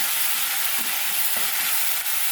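Turmeric and ginger garlic paste sizzling steadily in a hot pan, a continuous close frying hiss with faint stirring scrapes and no talking.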